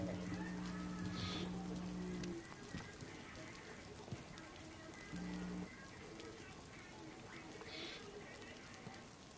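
Rain falling in the DayZ video game, a continuous hiss at moderate level under a steady background, with a few louder tonal bursts from other game sounds.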